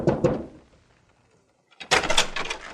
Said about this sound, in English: Knock on the door, Dave.